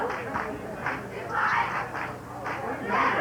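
Cheerleaders chanting at a 1983 high school homecoming football game, rhythmic shouted calls rising and falling at a distance over a quiet crowd, with a commentator talking over them.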